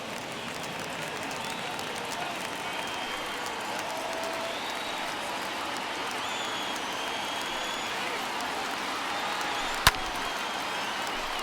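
A baseball stadium crowd of about 25,000 in MLB The Show 21 roars and cheers in a steady, sustained wash of noise, with a game commentator talking over it.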